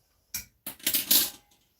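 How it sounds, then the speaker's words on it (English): A metal canning rack clatters into the bottom of a Presto electric pressure canner, with a short clink followed by a longer rattling scrape of metal against metal, close and fairly loud. "I have my canning rack in the bottom."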